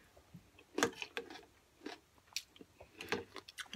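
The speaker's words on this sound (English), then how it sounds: "I'll pause this part so you don't hear my crunching, because that's not nice." Quiet, irregular crunching and biting bursts from someone eating a snack up close, with no talking.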